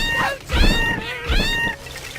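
A cat meows in the video game American McGee's Grimm, two drawn-out, wavering meows close and loud, standing alone with faint background noise between them.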